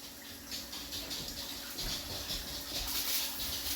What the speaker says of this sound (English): Rinsing the hands off.